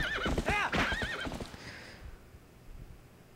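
A horse in Zelda: Twilight Princess lets out a loud wavering neigh, with quick hoofbeats and game music underneath that fade into quiet ambience during the second half.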